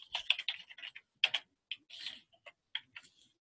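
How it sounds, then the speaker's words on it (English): Clicky computer keyboard typing in short bursts of keystrokes with small gaps between them, close and fairly quiet, while entering a post into an online college course discussion. "And then you can begin typing away"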